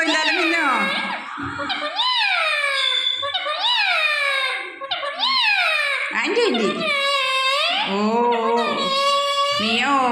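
A pet parrot repeatedly imitates a cat's meow with drawn-out, rising and falling calls, loud and close, while a person talks to it.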